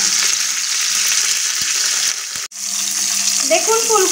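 Cauliflower pieces fry in oil with a steady, close sizzling hiss, briefly interrupted by a short clatter, and a voice speaks faintly near the end.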